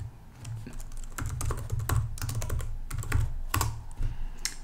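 Someone types a login command at a computer keyboard in a quick, uneven run of close key clicks, with a few louder taps now and then over a steady low hum.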